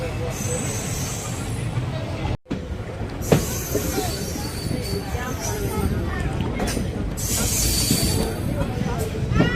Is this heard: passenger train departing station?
yes